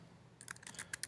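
Keys tapped on a computer keyboard while typing out a short all-caps word, a quick run of light, close clicks that starts after a brief quiet lead-in.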